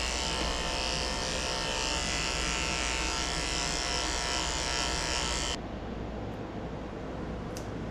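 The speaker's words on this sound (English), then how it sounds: "I'm going to shave her out a potty path so it stays clean back here" Electric clippers shave a Bichon-Spaniel mix's potty area, a steady close buzz that runs loud and constant for over five seconds and then cuts off, leaving a quiet background.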